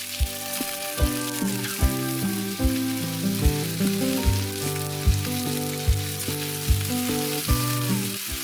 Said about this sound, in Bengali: সজনে ডাঁটাটাকেও খুব ভালো করে সাঁতলে নিতে হবে, মোটামুটি 2 থেকে 3 মিনিট মতো